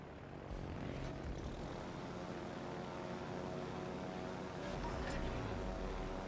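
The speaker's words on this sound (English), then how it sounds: "Fighter airborne." Fighter aircraft launching from a carrier in World of Warships, a steady propeller engine drone swelling near the end, loud and continuous with no talk.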